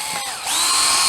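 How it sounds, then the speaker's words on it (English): A power drill bores through wood and into a metal flange while building storm-window doors for a rabbit hutch: a brief dip, then a loud, rising motor whine that holds steady and close, with no speech. "I'm going to drill through the wood and through the metal flange"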